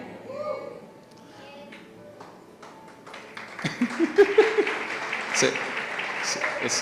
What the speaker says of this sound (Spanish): Ese es el aplauso del papá.